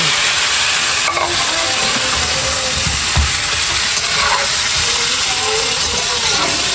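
Native chicken meat sautéed with ginger in a hot pan gives a steady close sizzle and hiss throughout, with occasional scrapes and clinks of stirring.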